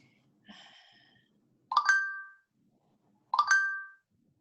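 Two bright electronic dings from a phone notification sound about a second and a half apart, clear and close in an otherwise quiet room, preceded by a softer tonal chime.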